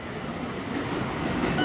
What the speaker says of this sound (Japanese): 岩国行きの普通列車、